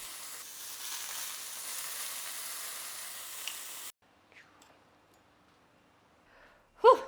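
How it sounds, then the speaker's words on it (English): Steak sears in a hot pan for roughly four seconds of soft steady sizzling, then cuts to near silence broken by faint shuffles and a brief loud knock at the end. "A few seconds on all sides, including the edges, to give it a nice sear"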